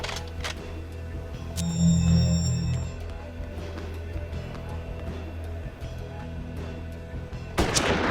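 Gunfire in the western tactical game Hard West: a heavy, booming shot with a rumbling tail near the start, followed by quieter game ambience and a later sharp burst of noise.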